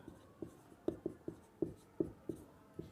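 Pen or pencil strokes on paper while a maths problem is worked out, a series of soft, irregular taps and scratches close by, faint and with no voices.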